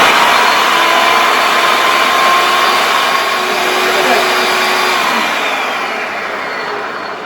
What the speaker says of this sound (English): now we're going to put that in our food processor. Get that all started up. Okay, and we're going to pulse this.